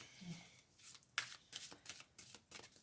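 Tarot cards are shuffled by hand for a reading, several soft riffling bursts and dry flicks in a close, quiet setting with no speech over them.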